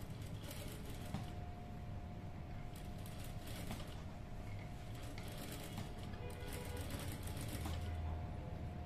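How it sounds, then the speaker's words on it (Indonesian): Sewing machine stitching the crotch seam of two trouser pieces, a steady continuous whirring drone with fine rapid needle ticking throughout, close and even, with no talk. "2 lembar ini kita jahit bagian pesaknya dari tanda yang sudah saya berikan tadi"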